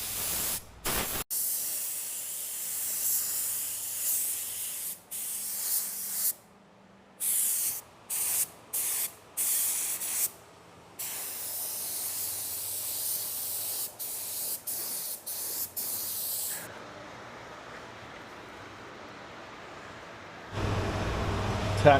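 Spray gun applying automotive clear coat, bursts of loud hissing spray starting and stopping repeatedly, some long passes and short blasts, with a longer continuous spray near the end.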